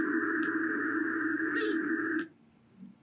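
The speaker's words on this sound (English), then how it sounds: "So what you hear is this beeping sound, which I call the stop signal" A sustained, steady buzzing tone of a honey bee stop signal inside the nest, close and fairly loud, with a brief higher chirp near the end before it stops abruptly, leaving faint background.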